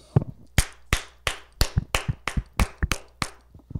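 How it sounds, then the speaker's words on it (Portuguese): A single person claps hands in a studio during a football talk program, about a dozen sharp, distinct claps in a loose, slightly uneven rhythm, close and dry with quiet gaps between. "Então vou até aplaudir."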